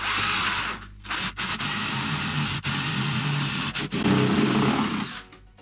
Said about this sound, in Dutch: Dan voorzichtig beginnen met boren.